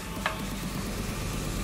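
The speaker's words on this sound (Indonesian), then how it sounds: "Kita masak ini sampai mendidih ya, sambil diaduk-aduk." Soy milk being stirred as it heats in a pot for homemade yellow tofu, a soft, steady scraping and sloshing close up, with one brief clink near the start and no voices.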